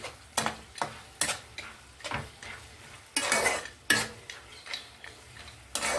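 Vadiyalu, lentil dumplings, clatter into a pan while cooking a dondakaya vamitala kaaram fry, with a series of sharp stirring and scraping knocks and a faint sizzle between them, close and uneven.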